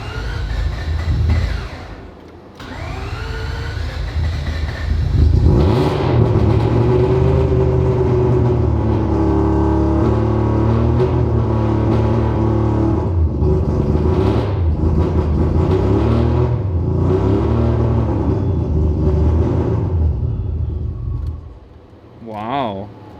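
A 1000hp engine runs lean, rumbling loud and close with uneven revving that surges and wavers for most of the stretch before dropping away, with someone talking over it.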